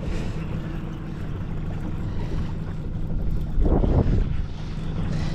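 A boat's trolling motor runs on Belews Lake in North Carolina, a low steady hum under gusting wind noise, with a brief louder rumble of wind buffeting the microphone near the end.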